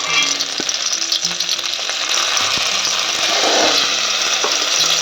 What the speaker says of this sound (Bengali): বাকি যেগুলো আছে একইভাবে আমি ভেজে নেবো বন্ধুরা